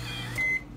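A kitchen oven timer gives a single short electronic beep, quiet against a low background hum.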